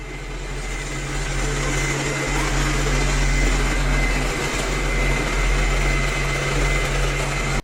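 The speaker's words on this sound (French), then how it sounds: "pendant qu'on laissera un petit peu l'aspirateur jouer" A Xiaomi Roidmi Eve Plus robot vacuum running on a floor gives a steady, even whirring hum with a constant low motor tone, close and continuous throughout with no talking.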